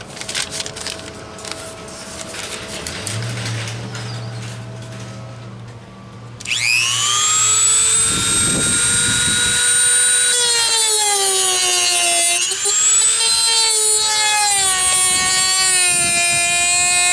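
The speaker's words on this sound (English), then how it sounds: "got my Dremel tool, and let's get after that" A Dremel rotary tool trims the plastic housing during a trailer hitch install on a BMW X3, spinning up after a quieter start into a loud, sustained high whine with shifting pitch as it cuts, running steadily close by.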